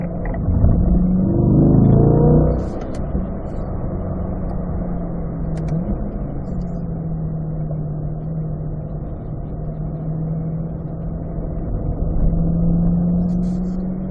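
A race car on a road course climbs a hill under throttle, its engine droning loudly and steadily with a rising, revving tone that surges at the start and again near the end, with no talk over it.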